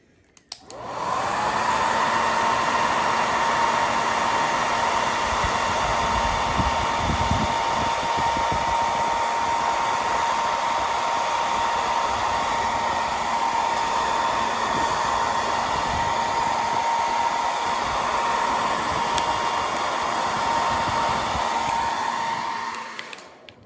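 A heat gun blows continuously at close range on a MacBook Pro A1398 to loosen the keyboard, a loud, steady rushing whine that holds for about twenty seconds before cutting off.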